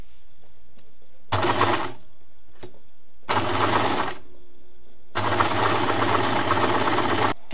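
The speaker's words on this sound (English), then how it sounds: "I'm going to move my needle back to the center and do it again, just so that I have 2 rows of stitches." Sewing machine stitches a second row on bralette elastic in three separate runs, a short burst, a brief one and a longer two-second stretch, each steady, close and whirring with quiet pauses between.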